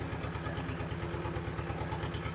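An old farm tractor engine runs steadily at a low, throbbing idle, its rhythmic chugging pulse continuous and close, with no voices over it.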